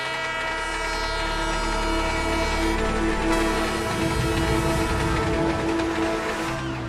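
A cartoon train rumbles loudly and steadily with a sustained horn-like whistle tone layered over rolling rail noise, continuous throughout with no talking.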